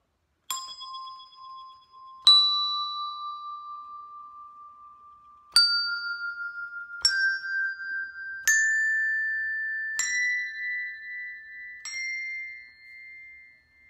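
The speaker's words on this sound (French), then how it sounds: "Je vais jouer les cloches, sauf une." Tuned bells are struck one at a time as a rising series of clear musical notes, each ring sustaining and decaying before the next, heard alone in quiet surroundings.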